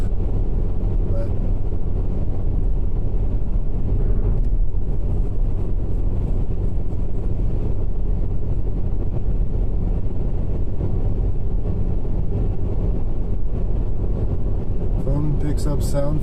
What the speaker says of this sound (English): I guess you mean from the car and the road noise.